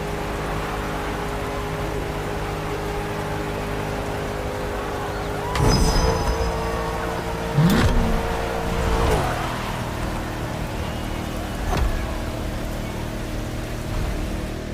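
Car lapping a coned circuit in heavy rain in the video game The Crew Motorfest, a steady wash of rain hiss and engine drone with a few brief, sharper bursts midway, no voices.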